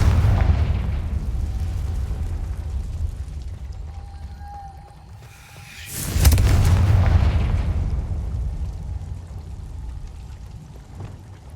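In Hogwarts Legacy a Confringo blasting spell lands with a deep, heavy boom and a rumbling burst that swells and then fades. A low magical ambience hums before and after the blast.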